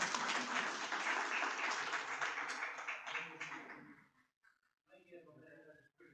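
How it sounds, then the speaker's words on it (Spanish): An audience in a church setting claps for the actors: dense, loud applause that holds for about four seconds, then thins and fades into a few scattered claps and quiet murmuring. "haciendo un aplauso por los actores"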